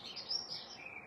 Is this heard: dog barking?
no